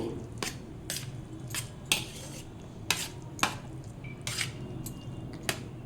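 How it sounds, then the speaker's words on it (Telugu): A spoon mixing yogurt into cooked rice in a metal vessel for South Indian curd rice: close, wet squishing stirs with sharp metallic clinks and scrapes at an irregular pace, without talking. "ఒక కప్పు పెరుగు వేసుకొని కలుపుకొని అలాగే ఒక కప్పు పాలు కూడా పోసుకోవాలి."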